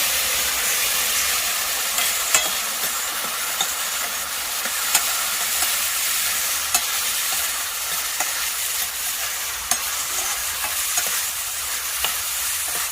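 Two tomatoes stirred and frying in a pan for a wedding-style mutton kurma, a steady close sizzle and hiss with regular scraping stir strokes, no talk.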